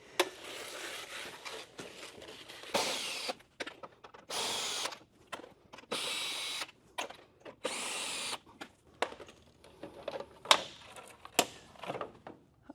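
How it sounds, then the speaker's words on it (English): Close-up power drill runs in repeated bursts of about a second each, separated by short pauses, with clicks and handling noise between them and a final few quick, sharper blips. "I bet you didn't think I had any power tools"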